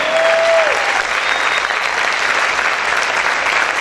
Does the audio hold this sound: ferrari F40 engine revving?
no